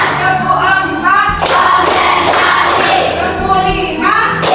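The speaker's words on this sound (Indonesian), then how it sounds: "Oke, tepuk konsentrasi." A classroom of children do a concentration clapping game, loud group claps landing together in bursts over a noisy room with voices.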